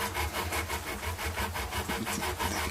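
A curved rod files up and down across the frets of a Chibson Steve Jones Les Paul guitar during setup, giving a quiet, rhythmic rasping scrape in even back-and-forth strokes, close and alone.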